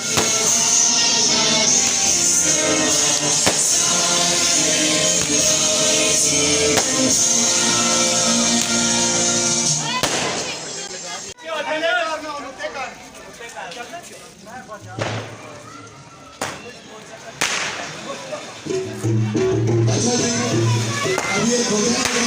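Diwali fireworks and firecrackers pop and crackle in irregular bursts in Nowshera after a stretch of loud music, with voices and crowd noise mixed in.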